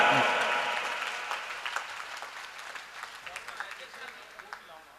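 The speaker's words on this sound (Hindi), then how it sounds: "एक बार जोरदार तालियों के साथ पूरे स्टाफ के लिए एक बार ताली बजा, हाथ उठा के।" Audience clapping for the staff at a comedy and devotional event, a dense burst of applause that starts loud and thins into scattered claps as it fades over a few seconds.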